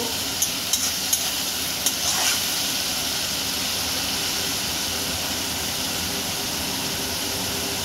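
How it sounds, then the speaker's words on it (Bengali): Spices frying in oil with a constant sizzle, a few sharp scrapes and clinks of stirring at the start, then a steady hiss. "যতক্ষণ না তেল বেরোচ্ছে এইভাবে নাড়তে থাকবো"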